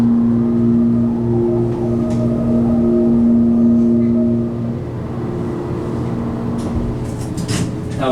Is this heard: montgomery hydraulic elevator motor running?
yes